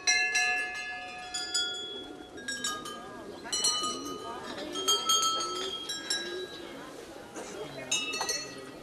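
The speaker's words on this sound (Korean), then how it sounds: "그런데 사원 안에서 쉼없이 종소리가 울려 퍼집니다." Small bells ring repeatedly inside a Hindu temple on a lake in Nepal, bright metallic strikes and clinks overlapping in irregular bursts against a murmur of background voices and activity.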